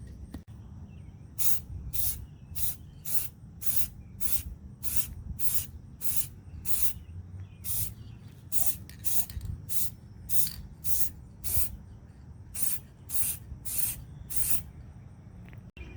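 Short spray-paint bursts coat a Dollar Tree watermelon lantern, about two dozen close hissing puffs in an irregular rhythm with quiet gaps between them.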